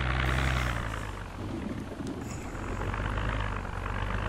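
A helicopter in the zombie survival game Project Zomboid drones overhead as a steady, loud low rotor hum mixed with broadband engine noise, holding constant throughout.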